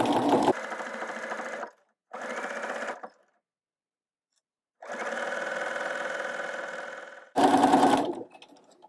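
A domestic sewing machine stitching a narrow rolled hem with a hemmer foot at its standard stitch setting, running in several close, steady bursts of whirring separated by short pauses.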